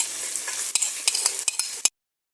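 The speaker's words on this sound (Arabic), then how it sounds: "حطينا الجزر والبصل بنقلبهم منيح مع بعض" Carrots and onions sizzle in olive oil and ghee while a utensil stirs them, with crisp scraping clicks over a bright hiss; the sound then cuts off abruptly.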